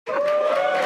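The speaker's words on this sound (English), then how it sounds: "And I got applause." A studio audience bursts into cheering and applause, starting abruptly and holding at a strong, even level with a mixed crowd of voices.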